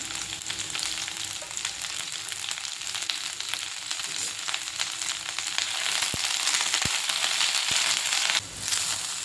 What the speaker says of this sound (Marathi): ते आता मी भाजून घेते